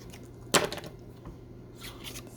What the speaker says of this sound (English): I'm going to actually cut a little piece of this off